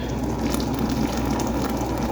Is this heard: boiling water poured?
yes